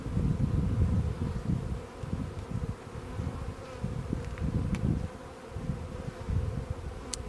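A dense, close buzzing of honey bees, rising and falling in waves with no talking.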